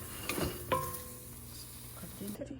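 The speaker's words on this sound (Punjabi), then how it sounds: "ਸਾਰੇ ਪਾਸਿਆਂ ਤੋਂ ਆਪਾਂ ਅਲਟੇ ਪਲਟੇ ਕਰਕੇ ਮਸ਼ਰੂਮ ਨੂੰ ਫਰਾਈ ਕਰ ਲਵਾਂਗੇ" Mushrooms fry in a pan with a low steady sizzle, while a spoon stirs and scrapes against the metal in a few light clinks, heard close up and fairly quiet.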